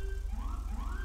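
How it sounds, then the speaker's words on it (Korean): A police car siren in the video game GTA V with an LSPDFR police mod sounds loud and close, sweeping upward in two quick repeated wails over a steady low engine rumble. "뉴욕 사이렌이 특이한 게 이 환경을 보면 이해할 수 있습니다."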